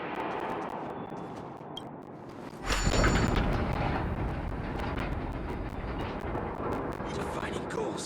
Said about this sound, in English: Please take control of the Automaton Spider and trigger an explosion to disperse the disruptive workers.